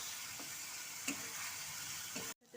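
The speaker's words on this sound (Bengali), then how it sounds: "পেঁয়াজ রসুন কাঁচা লঙ্কা বাটা মশলা দিয়ে একসাথে এখন আমি আলুটাকে ভালো মতো কষে নেব।" Potatoes fry quietly with onion, garlic and green chilli paste, a faint steady sizzle with a couple of light stirring taps, ending abruptly.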